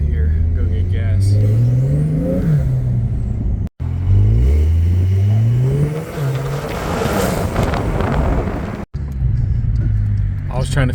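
A Porsche 911 engine revs and pulls away hard, loud rising tones climbing through several gear changes, with a couple of abrupt cuts between passes.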